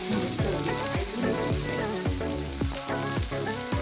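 Mutton brain fries in a pan for a soft, spicy homemade dish, giving a constant close sizzle and crackle, with steady music playing underneath.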